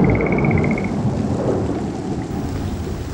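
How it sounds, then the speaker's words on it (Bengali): Thunderstorm with heavy rain, a deep rolling thunder rumble over steady close rainfall hissing on surfaces, loud and continuous with no voices. "এই বৃষ্টি বাদলার মধ্যে জঙ্গলে নামবো?"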